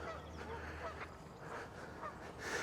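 Several big geese honk in short bursts close by, a fairly busy run of calls over a low ambient hum with no talk.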